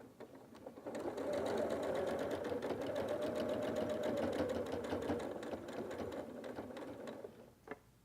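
Sewing machine stitching close along the edge of a pants waistband, one continuous close motor hum with rapid needle ticking for several seconds before slowing and stopping.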